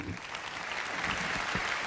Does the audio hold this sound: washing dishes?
no